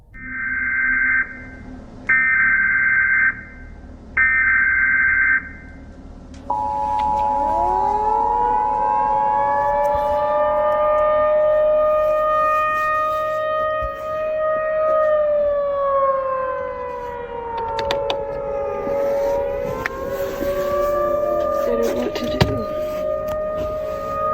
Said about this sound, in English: In the middle of the night, the sound of sirens ripped through the air.